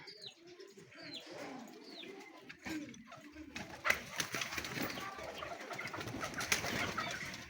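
Pigeons from a breeder's flock coo and chirp outdoors while wings flap as they take off and fly, a busy layered mix of calls and rustling with faint voices in the background.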